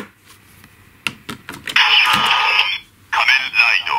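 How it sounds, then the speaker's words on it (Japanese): A toy Kamen Rider Decade transformation belt plays its electronic henshin sound effect: a few sharp clicks, then a loud bright synthesized burst lasting about a second, a short pause, and a second burst. "本家ディケイドの変身音はこんな感じ。"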